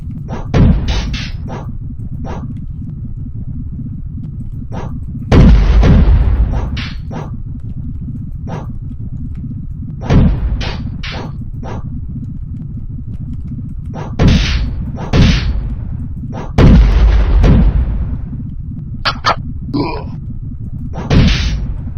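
Grenades explode one after another in a video game, a series of loud, close booming blasts spaced a few seconds apart, each with a sharp attack and a short decay, with no talk over them.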